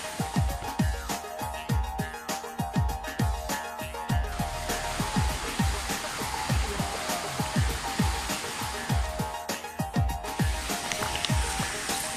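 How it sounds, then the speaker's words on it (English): Migtambol Falls in Mt. Kalatungan Natural Park pours with a dense, steady rushing roar that stays loud and close throughout, broken by frequent soft thumps and splashes. "Waterfalls! Crazy waterfalls!"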